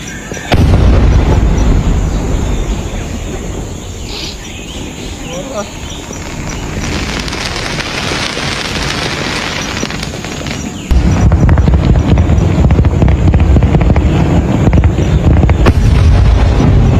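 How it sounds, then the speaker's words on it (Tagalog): Fireworks pop and boom continuously at a distance, with a dense crackling rumble that grows louder partway through. "umpisa na yung fireworks display"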